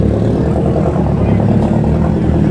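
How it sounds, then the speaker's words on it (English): Ferrari sports cars roll back into a parking area at the Auto Italia 2022 car show, a steady, loud engine drone close by, with a voice talking over it. "We've got some Ferraris just coming back into park, and we do have one here."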